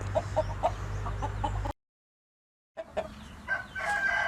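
A hen on a farm clucks in short repeated bursts, close and fairly clear, then a second of silence, followed by more scattered clucking and a brief bird call.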